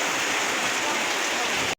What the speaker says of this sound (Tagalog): magtuloy-tuloy pa yung ulan na yan